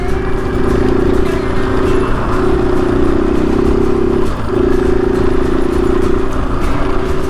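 A dual sport motorcycle engine drones steadily while riding, loud and close, with wind rush and a short dip around one shift or throttle change.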